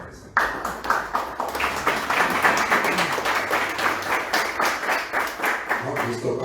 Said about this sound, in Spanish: Yo quiero que brinden un fuerte aplauso a una maestra fotógrafa